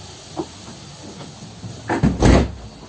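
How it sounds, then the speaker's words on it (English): A door to a patient's room is pushed shut with a soft swish and a couple of dull thumps as it latches, close by, over a steady background hiss. "Prior to the procedure, I have to close the door to provide privacy"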